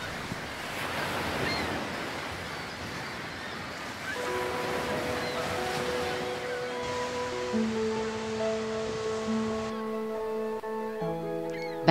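Ocean surf crashes on tide pool rocks, rumbling and washing continuously, with wind noise; later, sustained musical tones rise over the waves.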